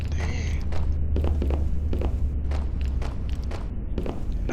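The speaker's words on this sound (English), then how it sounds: "And I randomly just hear some footsteps behind me" Footsteps in the horror game Power Drill Massacre, a run of evenly spaced thuds and creaks over a low steady rumble, close and fairly loud.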